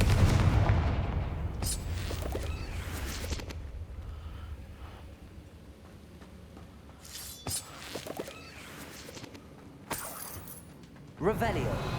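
A Confringo fire spell from Hogwarts Legacy blasts out in a burst of booming bursts, followed by several sharper, explosive cracks spaced over the following seconds against a quieter game ambience.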